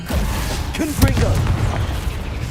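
A Confringo blasting spell explodes in Hogwarts Legacy, a short booming burst near the middle over dense, rumbling combat noise, with vocal sounds mixed in.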